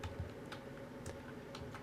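Quick bursts of typing on a computer keyboard, a handful of light clicks spread unevenly across a quiet room, no one talking.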